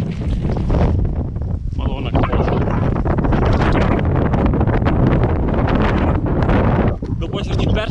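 Strong wind blasting across the microphone while bikepacking in Denmark through sandy country, a loud continuous roar that almost never lets up, with a brief exclamation from a rider over it.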